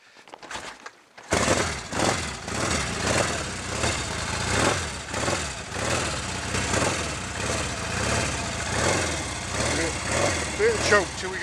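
A Royal Enfield Interceptor 750 Series 2 motorcycle engine runs on choke, a loud, close, lumpy idle with pulsing vibration after starting, while a person talks over it.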